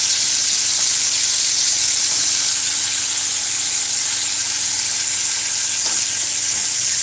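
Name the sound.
sausages sizzling while stir frying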